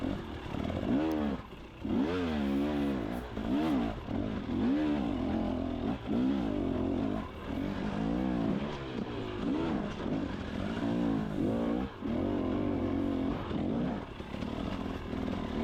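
Dirt bike engine lugging low in third gear on a winter woodland trail at McNutt, a steady loud rumbling drone with pulsing throttle surges and brief revs, close and continuous with no talk.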